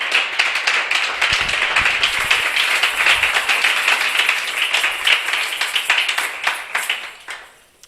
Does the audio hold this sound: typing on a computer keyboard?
no